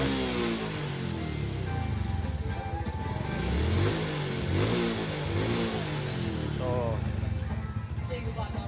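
A Suzuki Shooter motorcycle engine revving up and down repeatedly under throttle, close and loud, with a rough rising and falling note.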